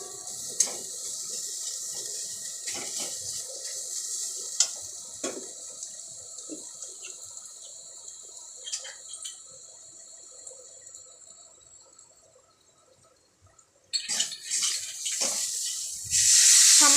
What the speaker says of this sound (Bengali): সামান্য একটু জল দিলাম মশলাটা কষানোর জন্য